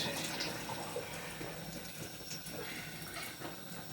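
Warm water pours steadily from a tap, a close, continuous splashing rush, while cooking ogbono soup.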